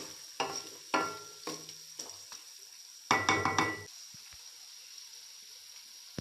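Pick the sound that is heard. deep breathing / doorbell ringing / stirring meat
stirring meat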